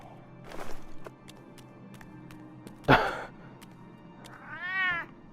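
A cat in the Batman Telltale Series video game gives a single clear meow near the end, after a soft breath or sigh, a sharp thump and faint footsteps or taps in an otherwise quiet room.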